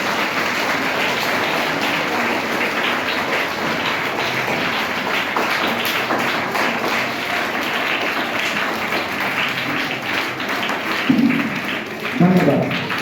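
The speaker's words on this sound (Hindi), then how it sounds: "एकदम शानदार तालियों से हम लोग चाहेंगे कि स्वागत हो" A crowd in a town hall in Jagdishpur at a school general knowledge competition gives a madam a long, dense round of steady applause, with faint voices underneath and a few louder thumps near the end.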